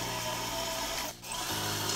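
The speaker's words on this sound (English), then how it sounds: "Then you start with a small drill bit and start drilling your hole." A small drill bit bores into a broken, rusted bolt, a steady whining grind that briefly drops out and then resumes, heard up close.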